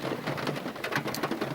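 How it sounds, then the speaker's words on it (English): Heavy rain pelting steadily on a car, a dense close patter and drumming that fills the whole brief moment with no voices. "But it's absolutely pissing it down."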